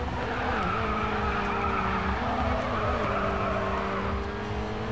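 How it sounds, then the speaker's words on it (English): An all-wheel drive car drifts with a steady, loud tire squeal over its engine note, and the pitch wavers as the slide goes on. "That wasn't a bad drift for a four-wheel drive vehicle, or all-wheel drive, whichever it was"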